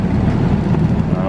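A Skoda 15Tr trolleybus idling during restoration, a steady low hum and drone with no rise or fall, close and fairly loud over a brief moment.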